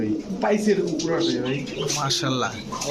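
A black-and-white pigeon coos softly among a group of pet pigeons, the low murmuring under and between people talking close by.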